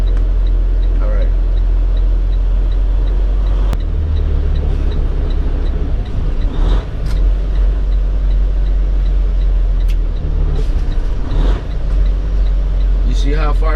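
A truck engine drones loud and close, its revs rising and dropping as it shifts into lower gears inside the cab, with people talking over the steady rumble.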